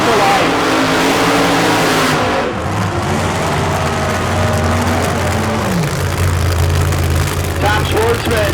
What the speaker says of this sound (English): Neosho, Missouri based CUDA, 1971 Hemi. Bring it to life.